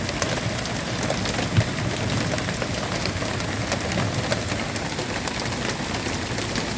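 Heavy rain mixed with small white pellet hail falls in a steady, dense outdoor hiss with scattered pattering ticks, continuous and fairly close, with no talk.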